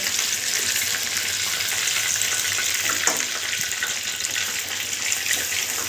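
Chicken pieces for pakora fry in hot oil, a dense steady sizzle and bubbling hiss that stays loud and close throughout, with no talking.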